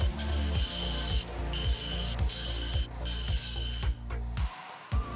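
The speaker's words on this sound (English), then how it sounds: "So I took the 3x3 over to the bandsaw, tilted the table to the holiest of numbers, and then I cut off four edges on each of the antipodal layers." A bandsaw cuts the edges off a plastic 3x3 Rubik's cube on a tilted table, giving a steady mechanical whir with regular rhythmic clicks and thumps about every half second, close and fairly loud with no talking.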